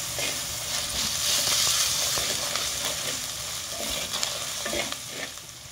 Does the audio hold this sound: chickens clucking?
no